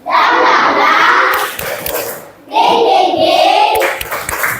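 Schoolchildren clap a rhythmic cheer together in a classroom, a loud burst of group clapping and chanting that pauses briefly and then resumes.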